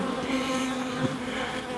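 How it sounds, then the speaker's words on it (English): Honeybees guarding a hive entrance against attacking wasps make a steady, close buzzing hum throughout, with a brief louder buzz as one insect passes near. "See the bees then defending against the wasps."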